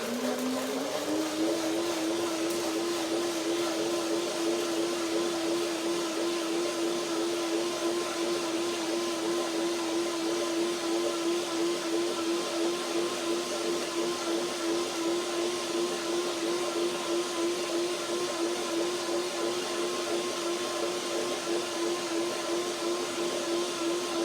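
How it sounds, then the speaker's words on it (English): A blender whirs as it purees cashews and parsley into a dressing: a loud, steady motor drone that rises briefly in pitch at the start, then holds constant throughout. "The first blending is always to break down the nuts or the seeds,"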